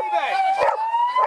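Police dog barking and yelping in a chaotic arrest scene, with a siren wailing steadily underneath and people shouting; a few sharp barks stand out near the middle and end.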